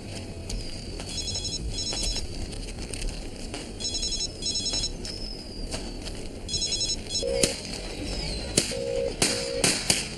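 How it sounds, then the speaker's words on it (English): A telephone rings in bursts of electronic trilling in a quiet room drama scene, three separate ring bursts with short pauses, fairly clear and close, with faint background noise and occasional light knocks. "What's that? The phone."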